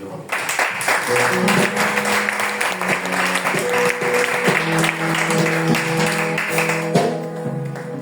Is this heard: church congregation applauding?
yes